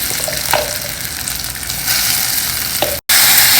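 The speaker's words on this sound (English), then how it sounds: "Next, just stir fry everything well together." Mango chutney with curry leaves and chili sizzles and fries in a pan, a dense, steady crackling hiss up close that is briefly interrupted by a short cut near the end.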